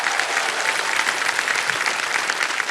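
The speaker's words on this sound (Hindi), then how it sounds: "जोरदार तालियां बज जाएं इनके लिए।" A television game show studio audience claps loudly and steadily for a contestant, a dense even wash of applause from many hands.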